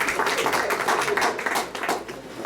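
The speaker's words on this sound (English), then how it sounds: "Give him a round of applause." An audience at a comedy roast gives a round of applause, a dense, steady wash of clapping that holds for a couple of seconds at fairly even loudness.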